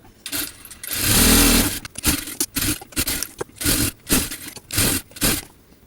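Electric sewing machine double-stitching the V-shaped neckline and lower seams of a dress, running in a long loud burst and then in short rhythmic bursts with brief pauses between them.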